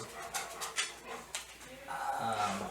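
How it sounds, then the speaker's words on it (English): A pet dog gives short soft whimpers and snuffling pants close by in a counselling session room, followed by a low steady hum, with brief human voice sounds mixed in. "This is my dog Jax."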